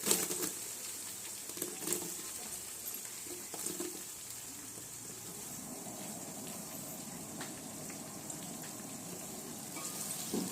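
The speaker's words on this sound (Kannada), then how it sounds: "ಇದು ಚೆನ್ನಾಗಿ ಫ್ರೈ ಆಗೋವರೆಗೂ ಬಾಡಿಸ್ಕೊಳ್ಳೋಣ" Onions frying in a pan with ginger-garlic and green chilli paste for vegetable pulao, a faint, steady sizzle that grows slightly denser partway through, with a few light clinks early on and no speech.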